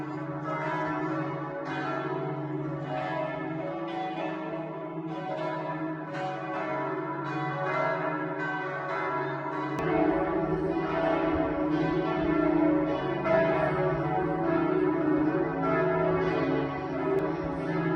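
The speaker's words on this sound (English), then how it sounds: "the church bells that have been going for the best part of 10 minutes now" Church bells in Laon, France peal continuously in a rich, ringing chorus, steady and fairly loud throughout, growing fuller and deeper about halfway through.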